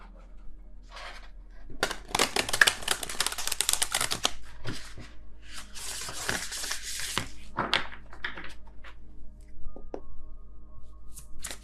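Tarot cards being handled and shuffled close by, with papery riffles and rustles in dense bursts, separated by softer shuffling and isolated taps.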